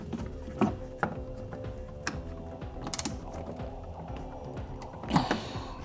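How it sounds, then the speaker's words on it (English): A hand ratchet tightens a bolt on a 2017 BMW i3 during brake vacuum pump replacement, giving close, quiet clicking pawl runs in short bursts with brief pauses between strokes. "Tighten it by hand and finish it with the ratchet"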